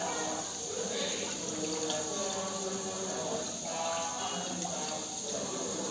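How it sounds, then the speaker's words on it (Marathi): Fresh mint leaves being washed in water in a home kitchen, a soft continuous splashing and trickling like a running tap, fairly faint and close, without speech. "पुदिना मस्त दोन तीन पाण्याने छान असं धुवून घ्यायचा"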